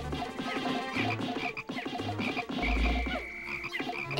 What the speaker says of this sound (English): we're gonna try to lure the frog out